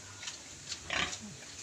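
Short, low grunts from a large sow come at irregular moments over a steady background hum, with one louder snort near the middle.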